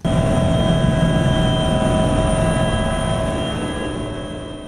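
A helicopter flies near an alpine station in the mountains, its engine a loud steady drone with sustained tonal whine that slowly fades toward the end.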